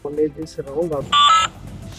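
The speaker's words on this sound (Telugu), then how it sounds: "సో మనకు ఒక బీప్ సౌండ్ వస్తే డ్రోన్ కనెక్టివిటీ అయినట్టు." A drone battery connection confirmation beep, one short electronic tone after a man's speech, clear and close.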